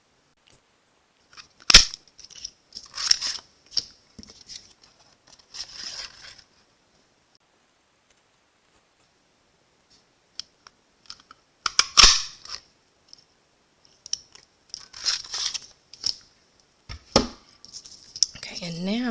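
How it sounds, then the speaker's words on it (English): Stampin' Up Dragonfly punch snapping through paper in sharp, close clicks and crunches, scattered in short clusters amid rustling, with quiet stretches between. "now I'm going to use my Dragonfly punch to punch these out"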